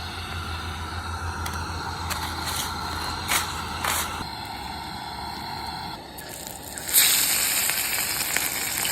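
Perch fillets frying over a campfire for dinner, a steady sizzle that runs throughout with a few sharper crackles and a louder burst near the end, heard alone.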